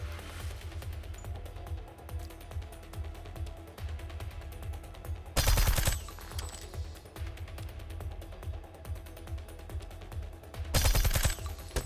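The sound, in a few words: turret gunfire in video game Reverse Collapse: Bakery Girl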